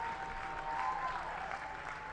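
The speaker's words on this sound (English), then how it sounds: "this crowd at Muzzy Field lets their Blues hear it" Crowd at Muzzy Field cheering and applauding for the Bristol Blues after a game-winning double with two outs in the final inning, a steady, fairly faint roar of clapping and shouts with no clear talk.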